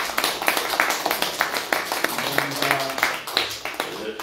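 A church congregation claps through a Sunday worship service, steady applause of many hands spread evenly throughout, moderately loud and filling the room.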